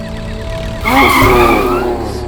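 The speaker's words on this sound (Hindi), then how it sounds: "ब्रेक क्यों लगा इतनी जोर से?" A car brakes hard with its tires skidding, a sudden loud screech that rises out of quiet cabin noise and squeals for over a second before easing off. No one speaks over it.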